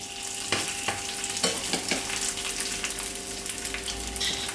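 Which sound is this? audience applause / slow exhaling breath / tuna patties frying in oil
tuna patties frying in oil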